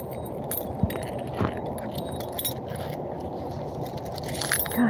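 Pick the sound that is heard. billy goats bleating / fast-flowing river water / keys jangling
keys jangling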